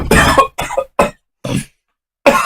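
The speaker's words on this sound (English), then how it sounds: "I'm going to have to cough." Several loud, close coughs in quick succession, four bursts with short silences between, then another after a pause, from someone during a tabletop wargame session.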